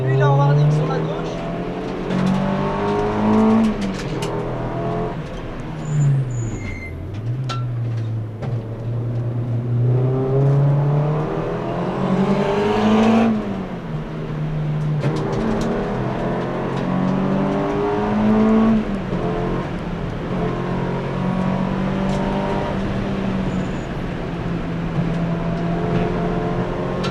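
Race cars on a trackday circuit at Folembray brake and accelerate, engines rising and falling in long revving sweeps that pass close and loud, with people talking over the steady motor roar.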